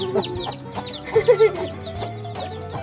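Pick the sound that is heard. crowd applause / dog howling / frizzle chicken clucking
frizzle chicken clucking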